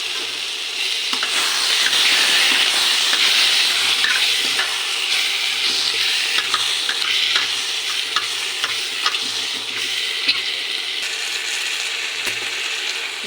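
Mushrooms for a mushroom masala curry sizzle steadily in a pan, a close, continuous frying hiss broken by soft scraping and stirring clatter, with no voices.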